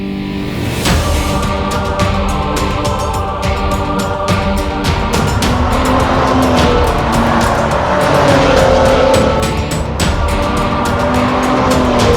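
A Maserati Quattroporte S Q4 large sedan with a 410-horsepower engine drives hard, its engine rising and falling through gear changes with tire noise and brief squeals, loud and continuous without speech.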